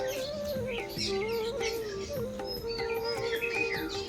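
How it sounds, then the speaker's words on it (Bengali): Morning birdsong from many birds in trees outside a flat, with repeated high chirps and tweets at moderate distance over a quiet background, no talking. "সকালে পাখিদের কিচমিচির শব্দে"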